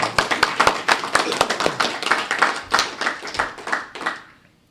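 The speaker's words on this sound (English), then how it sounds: "feel free to give her a round of applause" Dinner audience claps in a brisk, fairly loud round of applause, individual hand claps distinct at first, then thinning and fading out over the last second.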